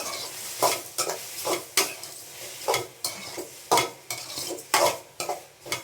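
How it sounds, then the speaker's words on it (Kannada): Food fries in a pan under a soft sizzle while a spoon stirs and scrapes in a regular rhythm of close, clattering strokes, roughly one per second, with no talking. "ಸ್ವಲ್ಪ ಫ್ರೈ ಮಾಡ್ಬಿಡ್ತೀನಿ"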